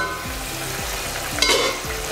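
Masala for mutton intestine fry (kudal varuval) bubbling and sizzling in a covered pan, a steady low hiss with a brief metallic clatter midway and no voices.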